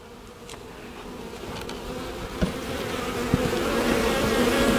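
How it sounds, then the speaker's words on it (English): Honeybees buzz steadily on an opened beehive after the sugar feeder is taken off, a dense, continuous drone held close by that swells slightly over the clip, with a couple of faint clicks. "See how the bees are on the bottom of that? And top."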